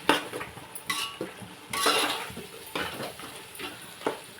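A spoon stirs and scrapes through gongura prawn curry paste in a metal pot, with repeated close clinks and scraping strokes, some louder than others, and faint background noise.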